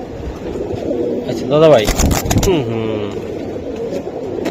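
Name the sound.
Giribaz pigeons cooing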